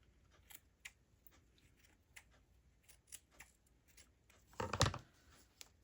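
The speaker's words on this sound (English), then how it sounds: "Okay, you can trim the ears. You can make sure they're nice and round." Scissors trimming the yarn ears of a pom pom bear, a series of small, sparse snips close to the microphone with one louder cluster of cutting near the end, quiet otherwise.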